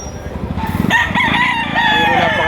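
A rooster crows loudly and close by, one long rising call that holds steady before trailing off.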